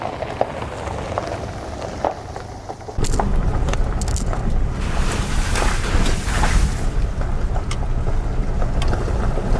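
Car driving along a gravel road toward a creek campground, with a steady rumbling crunch of tires on loose stones that grows louder after a few seconds, plus wind noise and scattered sharp pops of gravel.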